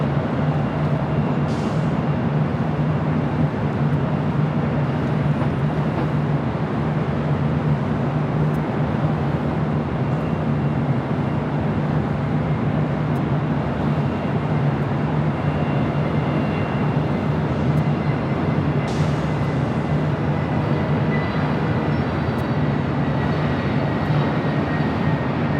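Hawaiian Airlines Boeing 787-9 Dreamliner arriving at LAX from Honolulu, a steady broad jet engine drone heard from a distance, constant for the whole stretch without rising or falling, and no talk.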